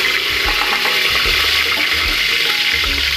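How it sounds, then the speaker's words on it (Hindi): Whole spices sizzle in half a cup of hot oil in a pressure cooker, a loud, continuous hiss and crackle heard up close with no talk. "अब इसमें मैं आधा कप ऑयल डालूंगी, और इसी में मैं अपने सारे खड़े मसालों को ऐड कर दूंगी।"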